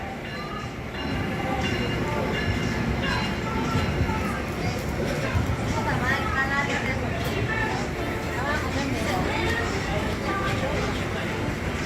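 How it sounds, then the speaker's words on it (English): An Amtrak train, number 318, passes through Trenton station in a loud, sustained rumble of wheels and rail noise, rising quickly and holding steady, with a voice speaking over it. "This train on track 4 is the Amtrak 318 westbound train number 19."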